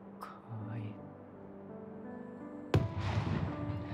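Fireworks launched over a night festival: a sharp boom lands near the middle, followed by a dense crackling shower, with a fainter pop at the start and a soft, close voice murmuring underneath.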